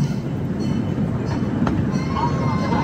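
Miniature train ride at the Santa Barbara Zoo, a steady loud rumble of the small train rolling along close by, with voices talking over it throughout.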